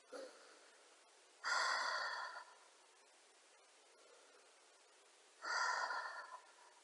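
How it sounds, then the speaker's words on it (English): Slow breathing during a beginner backbend yoga practice: two long, soft breaths, about a second each, stand out against a quiet background, with a faint catch of breath at the start and no talking. "Normal breath in and out."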